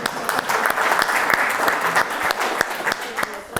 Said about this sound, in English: round of applause for all of you for sticking around after an intermission.